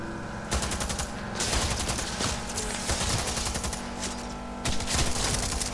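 Rapid automatic gunfire from the high-recoil Defender weapon in the Cyberpunk 2077 video game, loud close bursts of fast shots separated by brief pauses, no speech.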